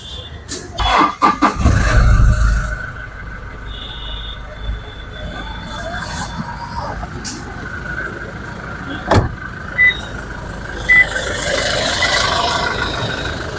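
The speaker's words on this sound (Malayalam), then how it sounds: "ഇനി നമുക്ക് വണ്ടി സ്റ്റാർട്ട് ചെയ്ത് ഇതിൻ്റെ സൗണ്ട് ഒന്ന് കേൾക്കാം" A Toyota Innova Crysta engine cranks and catches with a burst of low rumble, then settles into a quiet idle among clicks and small mechanical noises.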